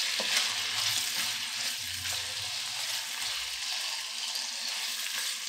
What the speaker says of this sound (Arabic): وقلبهم دقايق لحد ما يبقوا سوتيه ويستووا